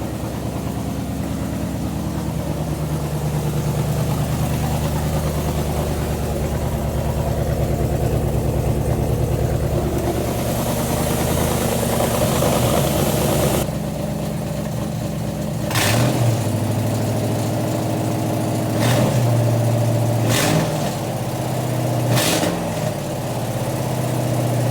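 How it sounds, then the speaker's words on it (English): A Foxbody car fitted with a 4.6 engine runs and idles steadily and loudly up close, with a constant low rumble and a few brief throttle blips near the end. "The car seems to be running and idling just fine."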